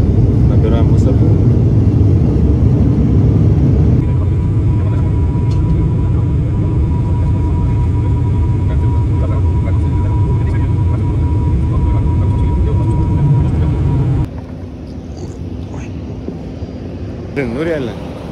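An airliner climbs out after takeoff from Tallinn, its engines a loud, steady cabin roar with a constant hum; the drone drops noticeably near the end.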